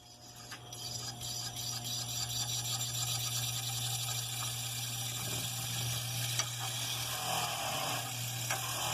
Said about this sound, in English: I start polishing on here with it, and it just bogs down, like you'll see.